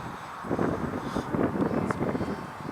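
ParkZone Artizan RC airplane cruising at half throttle, a steady engine drone mixed with heavy wind buffeting on the microphone, continuous and fairly loud throughout.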